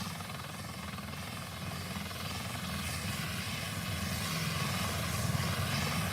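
A helicopter at an emergency scene with fire crews and an ambulance gives off a steady, loud rotor and engine roar that holds constant throughout, slightly swelling toward the end.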